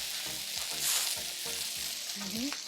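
Chicken skewers for an Asian-style recipe sizzle steadily on a grill, a continuous close hiss with faint knocks and scrapes underneath. Nobody talks.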